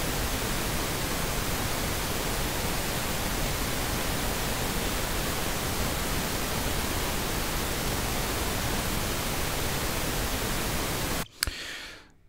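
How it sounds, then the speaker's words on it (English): A steady broadband pink noise test signal used to check a loudness meter, loud and unvarying for about eleven seconds before cutting off abruptly, leaving a brief quieter tail at the end. "let's see how the pink noise reads on the loudness meter."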